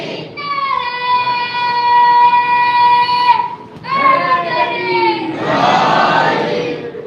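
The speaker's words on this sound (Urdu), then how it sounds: "سب مل کے نعرے کا جواب دے دیں۔" A hall audience at a Shia majlis gathering chants a slogan in loud unison, the long sustained voiced calls coming in two or three waves, with a burst of mixed shouting near the end.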